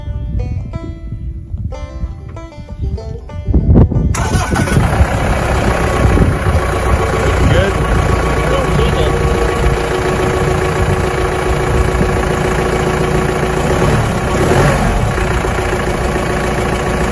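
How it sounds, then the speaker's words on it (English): A Mahindra Roxor engine cranks and fires after a short quiet lead-in, then settles into a loud, steady idle with a constant mechanical chatter close by. "now I'm just gonna fire this up and do a pressure check"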